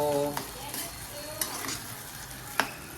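Leafy bhaji greens cooking in a pan with salt, a soft steady sizzle running throughout with a few sharp stirring clinks and scrapes against the pan, close and fairly quiet.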